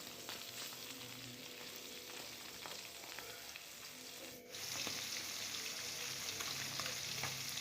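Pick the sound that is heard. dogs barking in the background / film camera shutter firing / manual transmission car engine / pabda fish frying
pabda fish frying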